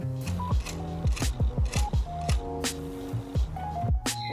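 Crispy dried flowers crunched and handled at close range, a string of dry, brittle crackles and rustles in short irregular bursts, fairly quiet with no voices.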